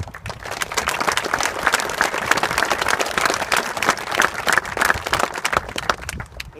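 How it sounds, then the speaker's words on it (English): A crowd gathered for a youth 12-and-under baseball team announcement breaks into steady, sustained applause, dense clapping holding at an even level throughout. "We hold the applause to the end, just get through it."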